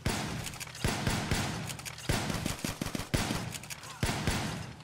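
Bursts of gunfire in a Call of Duty Black Ops 3 custom Zombies match crack out repeatedly in rapid volleys, some single shots and some quick strings, loud and close throughout.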